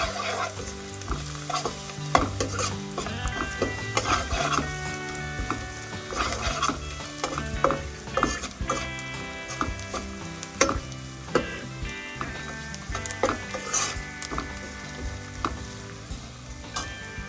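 Spices for poha stirred in a sizzling pan, a loud continuous fry with frequent rhythmic scraping and clattering strokes of the spoon. The sound is close and there is no talk.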